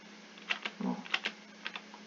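Several quick clicks of keys on a computer keyboard as a value is typed in for a program, light and close, in a quiet room with a faint steady hum underneath.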